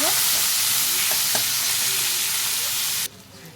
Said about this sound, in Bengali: তিনটে কাঁচা লঙ্কা দিয়ে দেবো ভালো করে নাড়াচাড়া করে